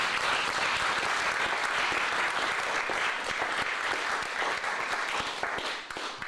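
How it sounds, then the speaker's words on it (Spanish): A church congregation applauds steadily for several seconds, a dense continuous wash of many hands clapping, moderately loud and fairly close, with no voice over it. "Denle un aplauso a Dios."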